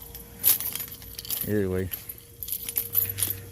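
A bunch of car keys on a keychain with several fobs jangles in short bursts, faint to moderate, between a man's spoken words.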